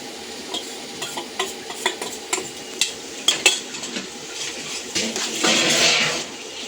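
A spoon scrapes and taps steadily through ginger-garlic paste as it goes into sizzling mutton biryani masala in a pan. The frying swells into a louder hiss near the end, with no voices.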